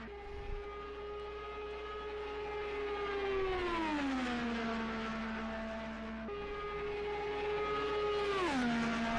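An Indy race car at speed on its warm-up lap at the Indy 500: a loud, steady high-revving engine whine holds its pitch, then drops as the car passes, with a second pass and fall in pitch near the end.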